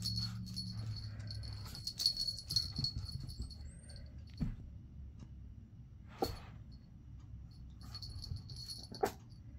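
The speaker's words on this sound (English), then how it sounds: "You're gonna bark with the ball in your mouth?" A tiny Chihuahua puppy gives a few short, muffled barks and whimpers with a ball in its mouth. The sounds are scattered and faint in a quiet room.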